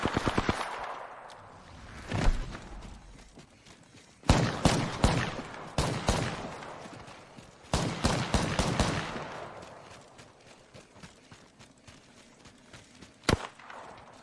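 Rapid gunfire from the video game Apex Legends: repeated close, loud bursts and volleys of shots with short pauses between them, and a single sharp shot near the end.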